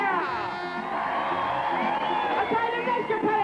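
A crowd at a 1984 BMX competition final cheers and whoops for a rider, a loud, sustained mass of shouting voices with children's shrill calls rising above it.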